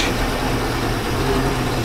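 A boat engine idles after a fire, with an overheated alternator, giving a steady, continuous low rumble and hum that holds without change and has no voices over it.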